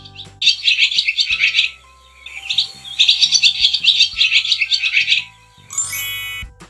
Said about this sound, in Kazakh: swallow.